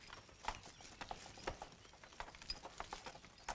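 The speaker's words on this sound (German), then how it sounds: "Ich werde die Pferde in den Stall bringen." Faint, steady clip-clop of horse hooves walking on a hard surface, an even rhythm of light knocks with soft mechanical creaks, no speech.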